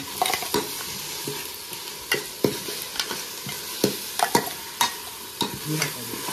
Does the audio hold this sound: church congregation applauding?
no